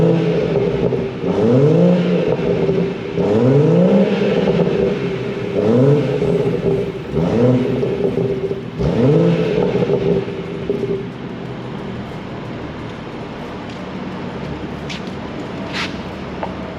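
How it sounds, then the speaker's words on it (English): A BMW 440 on its factory exhaust revs repeatedly, with about five rising and falling engine sweeps, then settles into a steady idle rumble close by. "listen to how this thing sounds."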